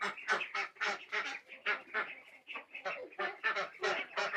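A flock of ducks quacks and honks continuously at close range, with rapid overlapping calls forming a busy, noisy chatter with no pauses.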